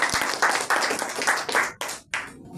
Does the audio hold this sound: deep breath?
no